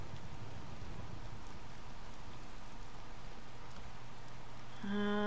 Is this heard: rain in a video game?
yes